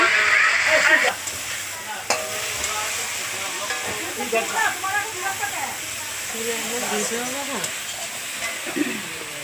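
Okra chorchori with mustard paste cooking in a pan gives off a steady sizzling hiss, sharpest at the start, then continuing softly beneath a voice talking close by.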